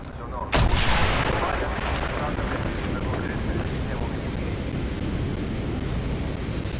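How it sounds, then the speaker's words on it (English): In the Call of Duty: Black Ops game, an explosion blasts a hole in a wall, opening with a sharp, loud boom and then a long, roaring rumble of debris and noise that fills the rest of the clip. "Mason, blow a hole in that fucking wall!"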